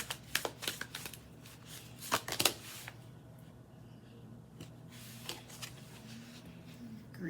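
A deck of chakra oracle cards being shuffled by hand for a card reading: a quick series of soft, close riffles and flicks at the start, then quieter, sparser card slides and taps.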